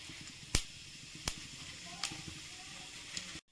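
Whole cumin seeds sizzle in hot oil in a wok, a soft continuous hiss punctuated by a few sharp clicks or taps, fairly quiet and close, ending abruptly.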